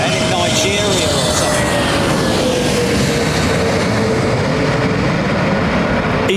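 An Air Peace Boeing 777 at Heathrow makes a loud, continuous engine roar with a slowly falling whine running through it, while people talk over the noise throughout.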